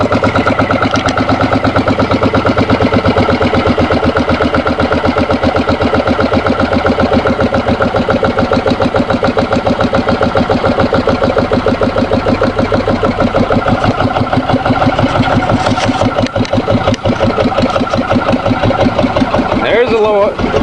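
A Yanmar diesel engine idles as slow as it will go, producing a loud, close, steady chugging with even rapid pulses. It runs unbroken for about twenty seconds, with a brief shift in tone near the end.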